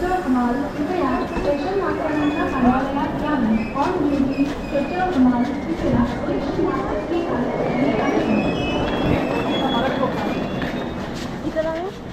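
A train rumbles steadily along the rails throughout, with people talking loudly over the continuous mechanical noise.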